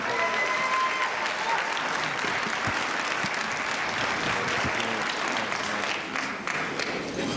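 A seated audience at a State of the Borough event gives a school principal a steady round of applause, dense and continuous clapping filling the room, with a few sharper claps standing out.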